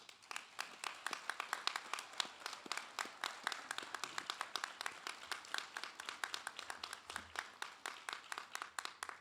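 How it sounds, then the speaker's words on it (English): Guests at a graduation ceremony at Training Center Yorktown give the instructors and advisors a warm round of applause: a long, steady stretch of many hands clapping, fairly soft and distant, with no voices over it. "could the guests please help me give them a warm thank you with a warm round of applause"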